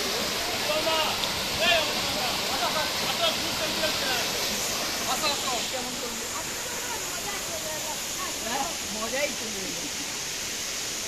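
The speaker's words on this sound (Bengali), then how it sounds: "তার আগে আমি একবার এই ঝর্ণাটা দেখিয়ে দিই।" A waterfall at Ghatshila pours steadily as a broad, close rushing wash of water, with people talking over it throughout.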